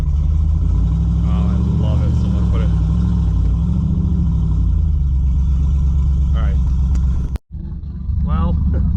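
A cammed Hemi V8 in a Jeep Commander with a slight exhaust leak rumbles deep and loud while driving. Someone talks over the constant low drone, which cuts out briefly near the end.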